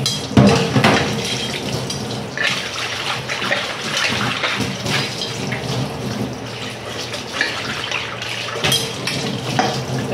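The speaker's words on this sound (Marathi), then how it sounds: "ही सुद्धा कढई आपण धुवून घेऊया" Running water splashes and rattles inside an iron kadhai as it is rinsed at a kitchen sink, a continuous close stream with occasional metallic clinks of the pan.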